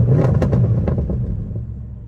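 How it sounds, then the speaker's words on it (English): A 2018-era Audi S7's engine revs, a deep, close rumble with a few sharp throttle blips early on that then settle into a lower, steadier drone. "Let's get a few revs in."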